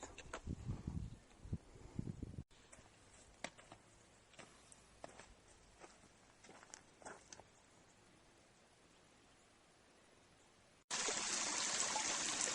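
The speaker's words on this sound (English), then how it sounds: "this is the stream that we're getting it from right now" A small mountain stream on the Pacific Crest Trail trickles and babbles softly and close by. It runs quietly for several seconds, broken by brief handling knocks, then turns into a loud, dense rush of water near the end.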